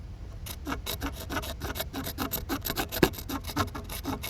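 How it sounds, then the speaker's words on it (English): A knife tip scrapes lacquer off a wooden axe handle in a rapid series of short, rasping strokes, close up and fairly quiet, with a rhythmic scratching texture and no talking. "just get in there with the tip of your knife, scrape away at the lacquer"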